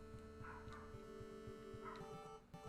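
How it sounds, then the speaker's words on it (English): Dogs barking in the NES game EarthBound, short repeated synthesized yips and barks over looping game music, quiet and evenly spaced. "he says right before the dogs bark again"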